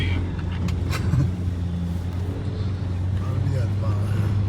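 A car passing close by on a road, a steady engine and tyre roar that rises slightly around the first second, with background voices present.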